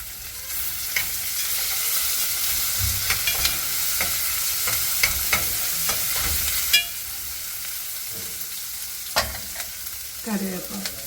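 Onions sizzle steadily in hot oil with ginger garlic paste while they cook for beetroot rasam, broken by sharp stirring clicks of a utensil against the pan.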